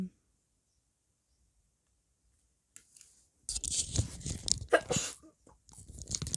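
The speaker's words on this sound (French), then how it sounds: "j'ai envie d'éternuer" A woman's sneeze bursts out after a long silence, followed by breathy, crackling sounds and a brief vocal exclamation, close and moderately loud.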